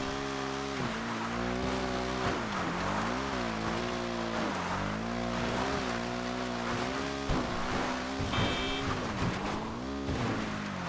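A motorcycle rides hard through dirt, its engine revving up and down in repeated surges with shifting pitch and rough texture, loud and close throughout, with no talking.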